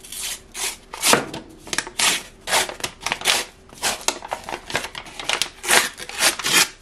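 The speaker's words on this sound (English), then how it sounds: "This is a can of cinnamon rolls that I got from Lidl, and I don't think I've ever had these before, so I'm gonna open this up" Someone handles and works at a refrigerated can of Lidl cinnamon roll dough, producing a steady run of close crinkling, scraping and tearing noises in irregular bursts, with no one talking.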